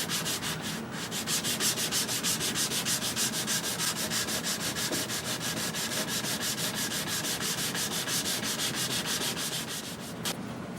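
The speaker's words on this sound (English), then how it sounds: "Alright, that's as much sanding as I'm going to do" Rhythmic scratchy rubbing of sandpaper worked by hand over a wood veneer cabinet, even back-and-forth strokes repeating steadily, close up.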